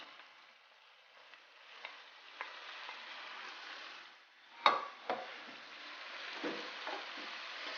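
Fish pieces going into a hot pan for coconut fish curry, with a steady sizzle and frying hiss throughout and a sharper burst of crackling midway as the fish hits the oil, plus a few utensil clinks.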